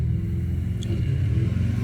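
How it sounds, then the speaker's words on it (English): A loud car engine rumbles close by as it passes, a steady low roar filling the moment with no voices. "loud car going by"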